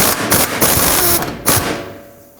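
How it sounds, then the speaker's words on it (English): A 21mm wrench breaks a seized bolt free on the rear toe arm of a 2007-2009 Saturn Aura, giving loud, close, gritty ratcheting and scraping bursts that end in a sharp release and then fade. "I'm going to attempt to break the bolt side free."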